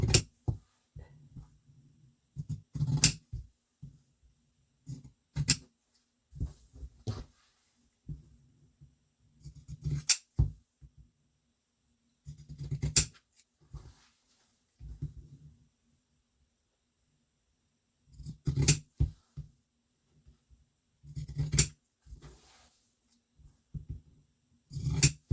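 Scissors trimming the corners of sewn fabric for a children's coloring mat, heard as close, crisp snips in short irregular clusters separated by quiet pauses, with no talking.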